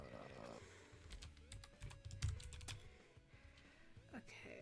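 Rapid clicking keystrokes on a computer keyboard during a timed typing quiz, fast irregular taps in bursts with soft background voices chatting over the typing.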